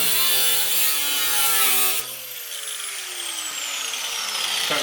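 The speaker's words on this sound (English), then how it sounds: "Cutting a quarter off" A car quarter panel being cut off during bodywork on a Camaro, a loud, harsh grinding and sawing rasp that runs steadily for two seconds, then drops to a lower, thinner whine as the cut continues, with no talking.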